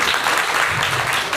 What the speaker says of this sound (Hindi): ताली से इसका स्वागत करिए।